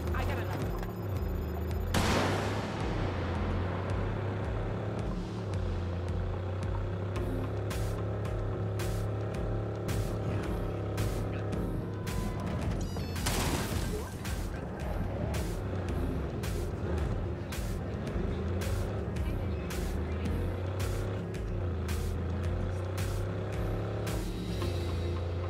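A vehicle in Cyberpunk 2077 drones along with a steady, loud engine roar, broken by two heavy crashing impacts as it runs into other cars, while someone talks over it.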